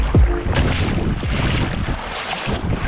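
Boat motoring across a river on the Maine coast, steady engine drone mixed with strong wind buffeting the microphone and water wash, no voices.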